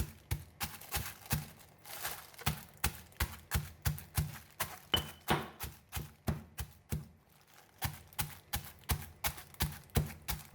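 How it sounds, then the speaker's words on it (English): Fresh turmeric in a plastic bag pounded with a mortar and pestle, a steady run of close, sharp thuds about two per second, alone and without voices. "Put fresh turmeric in a plastic bag to prevent stain on the mortar and pestle."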